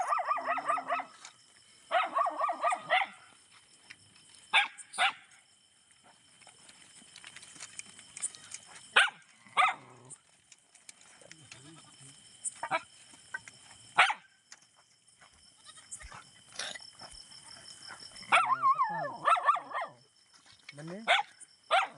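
Dogs bark in short sharp bursts, some close and loud, others farther off, scattered across a long stretch at a village fair with people talking in between.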